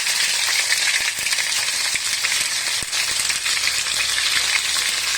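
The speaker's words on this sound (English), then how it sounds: "Next we need to fry this in the oil." Ginger garlic paste fries in hot cooking oil for Kerala beef pickle, a loud, steady, dense sizzle running unbroken and close with faint crackles and small clicks throughout.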